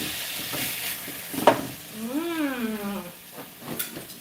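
Tomato dropped into a pan of lightly softened onion, giving a brief sharp sizzle burst followed by steady frying crackle and some stirring, close and moderately loud, with a short tonal squeak partway through.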